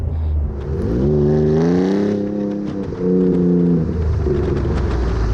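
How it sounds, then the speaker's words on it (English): Ford F-150 Raptor fitted with an aFe 3-inch stainless cat-back exhaust with dual side exits, heard from inside as it downshifts: a loud, steady engine drone whose pitch climbs, dips and climbs again, with no talking. "And you downshift, it gets loud in a hurry."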